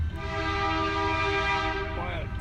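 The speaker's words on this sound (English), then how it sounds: "Why, a train horn's loud." A passing train in Perry, Michigan sounds its horn in a loud, sustained multi-tone blast close by, with rail rumble underneath and the horn bending as it ends.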